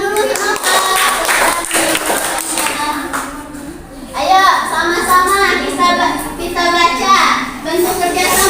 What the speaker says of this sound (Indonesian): kasih tepuk tangan dulu untuk Bapak